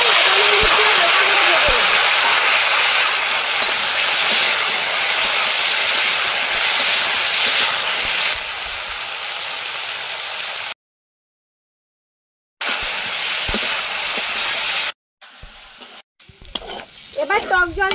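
Potatoes fry in hot oil with dry red chilli, mustard seeds and panch phoron, giving a loud, dense, steady sizzle with stirring. The sizzle drops lower, cuts out briefly, returns, then gives way to scattered kitchen clatter.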